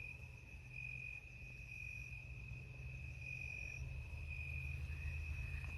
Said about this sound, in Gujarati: તમરા બોલી સાંભળો મિત્રો